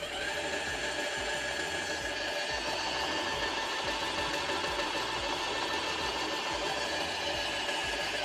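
Graco Ultra Max II 650 PC Pro Hi-Boy airless paint sprayer pump running in priming mode, a steady, dense mechanical whir with a sustained tone that holds evenly for the whole stretch, with no talking.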